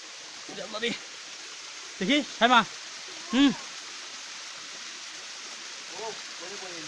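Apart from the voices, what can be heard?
jungle stream water flowing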